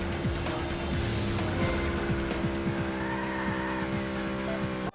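Cars race in the Burnout 2 video game, engines whining steadily with repeated sharp tire squeals and skids over a continuous roar, loud and close throughout.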